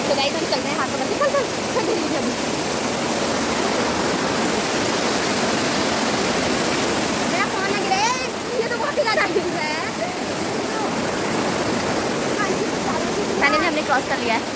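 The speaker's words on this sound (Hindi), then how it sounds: "अब हम पहुंच चुके हैं नदी में" River water rushing steadily near Bageshwar, a loud continuous broadband roar close by, with voices faintly audible over the flow.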